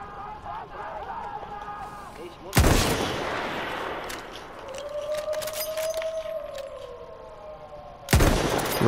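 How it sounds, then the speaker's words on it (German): Battlefield 1 weapon fire rings out as two sharp, loud gunshots several seconds apart, with a ringing tone and quieter background sounds between them. "Die Waffe ist extrem laut"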